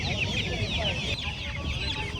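Fancy feather-footed chickens cluck steadily at a busy village poultry market, a dense, fairly faint mix of overlapping hen calls with murmuring crowd voices underneath.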